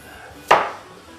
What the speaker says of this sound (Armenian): Ես կտրատեմ կարտոֆիլը, կարծում եմ շատ մանր հարկավոր չի